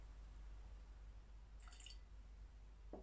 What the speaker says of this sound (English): I'm actually gonna try and put a little bit more water in this.